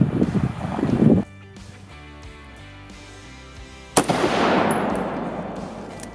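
A rifle fires single shots while handloaded ammunition of different charge weights is tested, each report a sharp, loud crack with a trailing rumble. Two shots stand apart, and a steady low hum fills the quiet between them.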